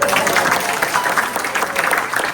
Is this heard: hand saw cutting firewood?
no